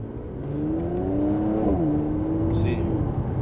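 Mercedes-AMG C43 with a V6 engine, its exhaust giving a soft, steady burble and drone that rises slightly in pitch mid-clip, heard continuously from inside the car without any loud roar.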